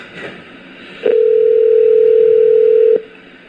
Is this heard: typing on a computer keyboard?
no